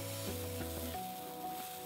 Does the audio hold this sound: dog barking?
no